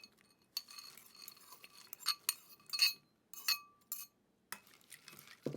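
Pepper, pimento and onion being stirred into a casserole with a spoon, quiet intermittent clinks and scrapes against a glass or ceramic dish, several short taps spaced irregularly.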